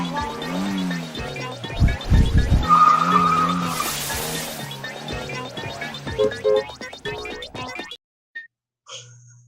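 An old car with squeaky wheels plays back, its engine and loud squealing, skidding tires sweeping up and down for several seconds before cutting off, followed by a few brief sounds.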